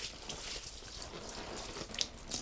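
Lemon-scented liquid being poured into a large container to soak a giant car air freshener, a steady soft watery wash with faint splashes and a couple of brief drips near the end.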